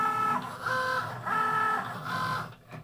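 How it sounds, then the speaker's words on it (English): A Cricut Joy Extra reading registration marks and cutting stickers, with its motor whirring in repeated tonal strokes that rise and fall as the carriage moves back and forth, close and clear. "It's going to go ahead and pull and read those registration marks first and then begin cutting."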